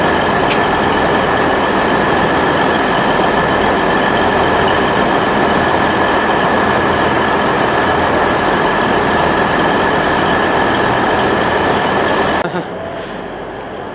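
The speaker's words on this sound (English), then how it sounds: "Here comes the cross country 170, this is going to Birmingham New Street." A Class 170 diesel passenger train roars past at close range, a loud continuous rumble with rattling wheels and a faint squeal, cutting off abruptly near the end.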